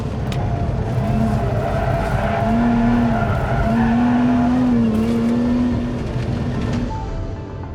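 A Lotus Emira drifts with its tires skidding and squealing in long sustained wails over a loud, continuous engine roar, close and prominent, easing off near the end.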